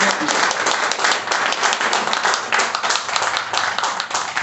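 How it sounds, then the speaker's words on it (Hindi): Audience applause at an open meeting, welcoming a speaker to the stage: dense, steady clapping from a room full of people lasting several seconds at even loudness. "तो एक जोरदार ताली से उनका स्वागत करते हैं"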